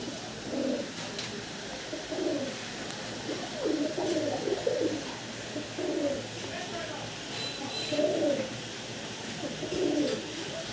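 Big pigeons at a seller's loft coo in repeated throaty bursts, roughly every one to two seconds, fairly close, over a low background hum.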